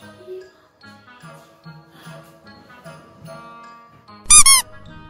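A door being opened gives one short, loud squeaky creak near the end, rising above soft background music.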